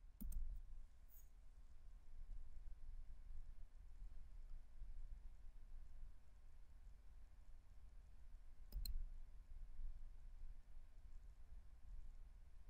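A computer mouse clicks twice, sharp and close, once near the start and again after a long quiet pause, with only faint room hum between.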